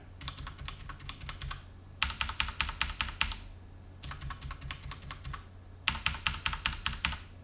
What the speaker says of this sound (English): I actually like the sound of this mechanical keyboards without the O-rings.